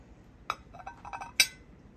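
A porcelain saucer set down on a laid table: two light, close clinks about a second apart, with faint rattling between them in a quiet room.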